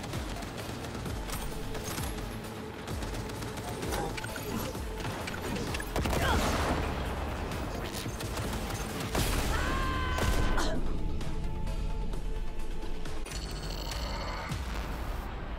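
Mines blowing up in a minefield in Cyberpunk 2077, a dense run of loud crashing blasts and rattling debris with bursts near the middle, over continuous game noise.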